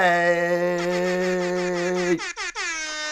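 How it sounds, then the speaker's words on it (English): A loud, sustained air horn blares for about two seconds, then cuts into a few short choppy blasts before sounding again. "gotta love the air horn from Jersey."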